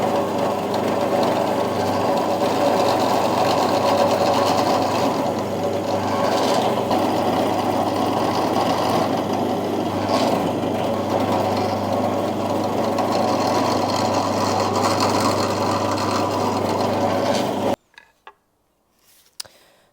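A drill bores screw holes in a scrap wood chair, its motor buzzing and whirring loudly and steadily with small surges in pitch, then cutting off abruptly, followed by a few faint knocks.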